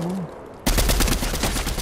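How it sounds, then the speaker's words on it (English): Dense gunfire in the Fortnite battle royale video game, a loud burst of rapid repeated shots that starts abruptly partway through and continues without a break to the end. "How is this guy shooting me through a tree?"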